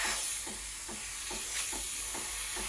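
Breville Duo Temp Pro BES810 espresso machine steam wand giving a steady, loud hiss with faint rhythmic clicking or pulsing underneath, close and continuous with no talking.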